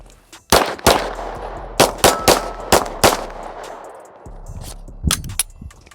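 Outdoor shots from a home-built P80 Glock-style pistol, about ten loud sharp cracks, some in quick pairs and runs, with ringing echoes and short pauses between strings.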